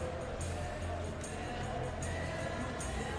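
A stadium crowd at a simulated Manchester City vs Sunderland Premier League match in the PES 21 football video game, heard as a steady, dense roar with no clear breaks.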